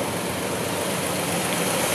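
A 1956 Pontiac Star Chief engine idles smoothly and steadily at close range, a constant even running drone with no knocking or clatter, heard alone without talk.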